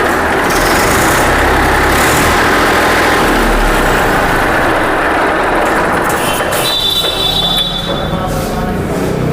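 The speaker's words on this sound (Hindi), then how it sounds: "सेल्फ स्टार्ट दिखा रहे हैं हम आपको।" A tractor's diesel engine runs steadily and loudly throughout, a low continuous rumble with a brief higher whine near the end.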